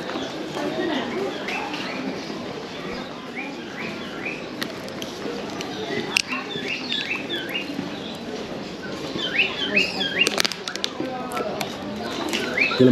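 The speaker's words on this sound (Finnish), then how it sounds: "Täällä on tää lintujuttu." Pigeons and other birds coo and chirp in the Souq Waqif bazaar in Doha, Qatar, a busy market setting with scattered bird calls over a steady crowd murmur and people talking nearby.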